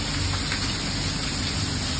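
A heavy Florida downpour in humid weather gives a dense, steady roar of rain close by, constant and unbroken with no voices.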